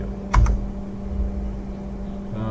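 A computer keyboard is used while working in CAD software. Two quick close keystrokes, which may include pressing Enter, are followed by a steady background hum.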